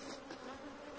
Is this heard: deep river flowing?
no